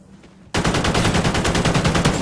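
Automatic gunfire in the multiplayer shooter Call of Duty: Ghosts, bursting in abruptly after a quiet moment and continuing as a loud, close, rapid rattle of shots without pause.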